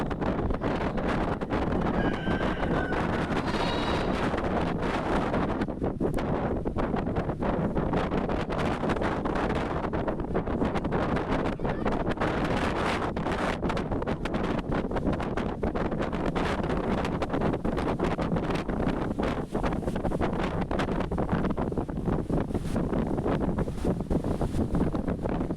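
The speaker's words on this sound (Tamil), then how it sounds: "சரியான காற்றடிக்குது." Strong wind buffets the microphone continuously at the seashore in Dhanushkodi, a steady roaring rush with no pauses, loud and close throughout.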